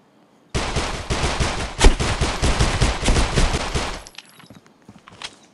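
A fast volley of P250 pistol shots fires in quick succession in a shooter game. The loud, close cracks stop abruptly and give way to faint clicks and quieter sounds.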